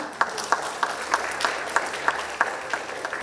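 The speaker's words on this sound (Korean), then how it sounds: "여러분 박수 부탁드리겠습니다." Audience at a Korean corporate ESG management award ceremony applauding, a sustained wash of clapping with a few louder claps standing out at a brisk regular beat.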